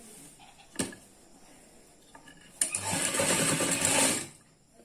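A sewing machine stitching a suit, a brief tap then a short burst of fast whirring stitching for under two seconds, close and moderately loud in a quiet room.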